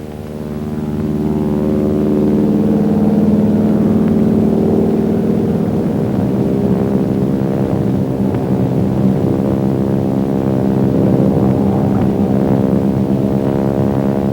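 A North American Aviation T-6 airplane engine runs at full throttle, a loud, steady, droning roar that swells over the first seconds and then holds constant throughout, with no voices.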